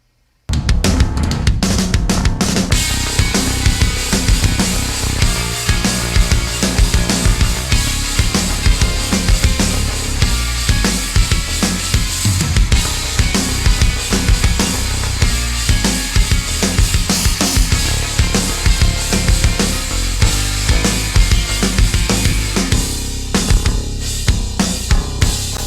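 Distorted metal guitars in a chorus section of a metal mix, a dense, loud, continuous wall of heavily saturated chords with steady driving rhythm and no voices.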